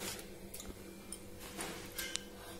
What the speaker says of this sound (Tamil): போட்டு நல்லா அடிச்சு கலக்கிக்கோங்க. அப்பதான் குண்டு குண்டா வரும்.